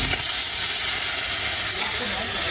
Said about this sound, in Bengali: এবার হচ্ছে মাছ ভাজি করব